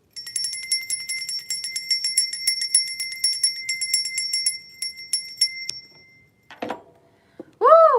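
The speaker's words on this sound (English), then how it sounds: "We need a bell on this bitch." A small bell rung to clear the energy during a zodiac reading, jingling rapidly and brightly up close for about six seconds before stopping, followed by a couple of brief unrelated sounds.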